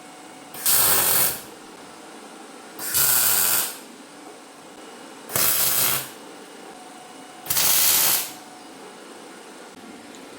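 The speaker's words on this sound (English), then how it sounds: "I did a few spot welds just to hold the piece in place" Spot welding tacks go onto a car chassis panel: four sharp, loud crackling hisses of about a second each, evenly spaced with quiet pauses between them.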